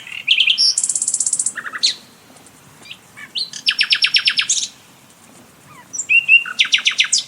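Nightingales singing in woodland, a loud, close bird song of rapid repeated chirping phrases and trills in bursts, separated by short pauses, with no voices.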